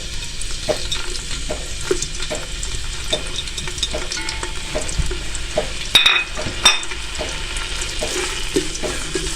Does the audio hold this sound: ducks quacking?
no